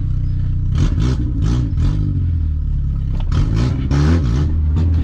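Fiat Palio engine with a locked gearbox, revved repeatedly in short rising-and-falling bursts over a rough, clattery idle, close and loud, with no voices.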